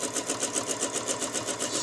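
Sewing machine stitching steadily around a quilting ruler, following scroll lines, with a fast even rhythmic whir pulsing throughout at close range and no talk.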